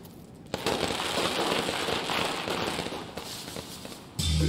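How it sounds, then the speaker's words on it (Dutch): A dense, continuous crackle of fireworks bursts in Peach Blossom Village in the video game Nine Sols, loud and steady for several seconds, then a sudden shift to a different noisy sound at the end. "Er is vuurwerk."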